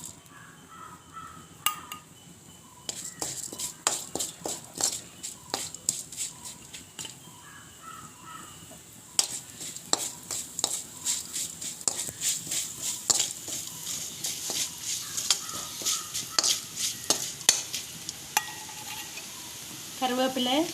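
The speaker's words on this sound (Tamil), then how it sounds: "இப்போ வந்து இதுக்குள்ள வந்து கருவா, கடுகு, பெருஞ்சீரகம் போட போகிறேன்." Cinnamon, mustard seeds and fennel seeds frying in a spoonful of oil for Jaffna-style bread kottu, with a steady sizzle broken by quick sharp pops and crackles of seeds spitting in the pan, heard up close.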